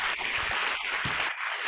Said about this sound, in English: Love that applause.